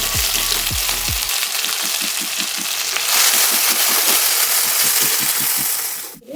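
Garlic and medium-sized tomatoes fry in a pan in a home kitchen for mushroom curry, making loud, steady sizzling with rhythmic stirring scrapes and a clatter at the end. No one talks.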